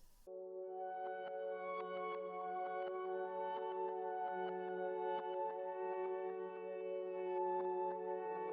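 A sustained reversed synth pad with bright shimmering overtones and faint wobbly lo-fi texture, steady and alone throughout.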